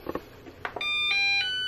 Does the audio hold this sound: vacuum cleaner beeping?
yes